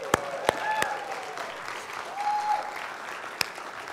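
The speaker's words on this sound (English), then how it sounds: "Now you can clap." Soft applause from a church congregation, a spread of light clapping with a few sharp close claps standing out and a voice speaking faintly over it.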